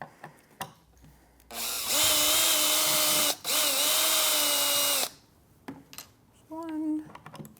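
A handheld power drill backs screws out of an EXO chair pedal, with two long steady whines separated by a brief pause, followed by a few short clicks and a shorter burst of the motor.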